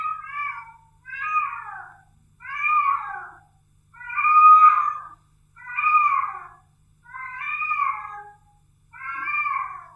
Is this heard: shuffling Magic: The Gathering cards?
no